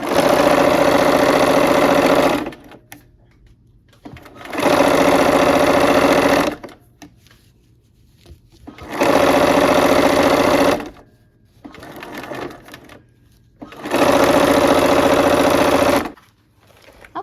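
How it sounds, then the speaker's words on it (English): A sewing machine stitches quilt block seams in four loud, close bursts of steady whirring, with quiet pauses between each run. "I just butted my seams up together again, and let's go sew"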